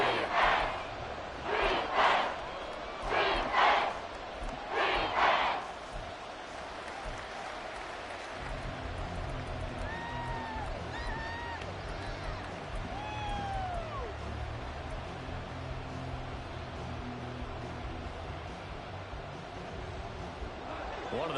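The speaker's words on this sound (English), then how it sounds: "the crowd getting into it as we come up on a big 3rd down" A crowd in a Madden football video game roars in several swelling waves of cheering, which then settle into a steady, lower stadium rumble that holds under the game sounds.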